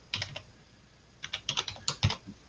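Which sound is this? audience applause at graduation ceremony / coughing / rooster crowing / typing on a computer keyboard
typing on a computer keyboard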